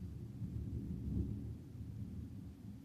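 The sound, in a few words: thunder in the background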